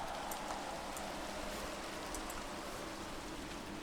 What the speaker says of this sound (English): Rain is probably a bad thing.